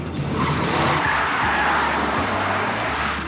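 Car doing a reverse handbrake spin on a driving challenge course, tires skidding and squealing loudly close by with engine roar underneath, lasting a few seconds.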